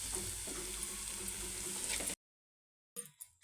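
Sliced onions frying in oil in a pan, a steady close sizzle with faint stirring that cuts off abruptly as the stove is switched off, followed by a few brief clatters.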